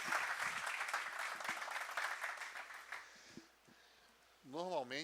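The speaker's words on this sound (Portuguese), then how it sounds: "Você pode aplaudir com mais força aí, igreja." A church congregation applauds a guest at a businesspeople's worship service, steady dense clapping for about three seconds that tapers off, then a voice speaks near the end.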